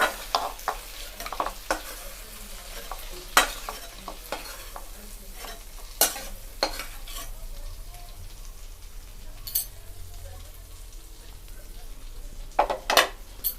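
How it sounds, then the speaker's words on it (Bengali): Prawns frying in a kadai, with a continuous sizzle broken by sharp, repeated clinks and scrapes of a spatula stirring against the metal pan, close and fairly loud. "চিংড়িগুলো আমাদের ঠিক ভাজা হয়ে গেছে"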